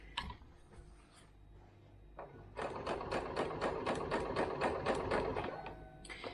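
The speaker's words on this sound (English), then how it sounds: "I'm just going to sew in the dart." A sewing machine stitches a dart in a summer wraparound skirt, starting with a few short bursts and then running in a steady, close, rapid mechanical rattle.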